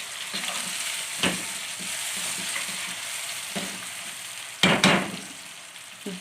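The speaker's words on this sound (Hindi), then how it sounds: "टमाटर जैसे ही हमारे टेंडर होंगे हम इनमें मछली को शामिल कर देंगे।" Fish pieces go into tomatoes frying in a pan for fish salan, a steady close sizzle with a couple of sharp crackling bursts as the food lands and settles.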